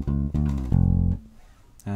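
Bass guitar lick with a slide down from D, a ghost note and a chromatic walk up, heard as a few close, loud plucked notes with a sliding tone, then a short quiet gap before a final note.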